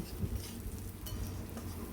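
Gobindobhog rice coated with ghee, salt and turmeric, plus whole cardamom and bay leaf, frying and being stirred in a pan: a steady, soft sizzle with faint scraping, close by and without talk.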